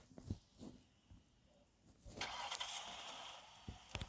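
A car spawns in a Roblox game, followed by a faint engine start and a low, quiet idle, with a few soft clicks and thumps before it.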